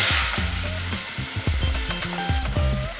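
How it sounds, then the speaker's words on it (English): Tomato and onion sautéing in a pan with ginger garlic paste, giving a steady close sizzle broken by repeated scrapes and clicks of a stirring spoon. "Now add 1 medium tomato and cook till it's soft."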